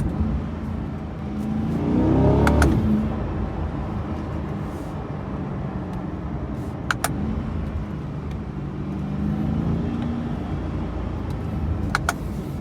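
A car on a city road heading to Walmart, its steady engine and tire rumble close inside the cabin, swelling slightly as it accelerates, with faint clicks and no talk.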